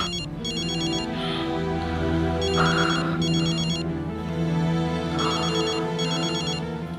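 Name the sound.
telephone ringing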